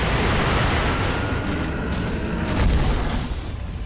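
Firecrackers go off in the Sekiro video game, a dense loud burst of booming, crackling noise that holds steady before tapering slightly.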